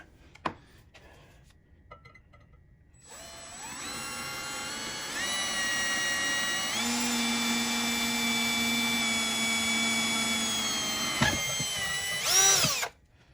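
A drill runs continuously for about ten seconds, a steady high whine with a lower grinding tone as the bit cuts into metal for a GC1725M tool box holder mount, then stops.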